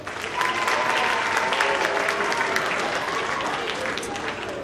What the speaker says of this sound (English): You can clap for them, go ahead.